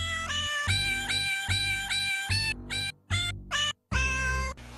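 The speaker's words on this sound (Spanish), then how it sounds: "Grabé los maullidos y les puse melodías" Recorded cat meows edited into a melody for a Christmas album, a steady run of pitched, tonal meows in rhythmic sequence with short gaps, loud and close, no talk.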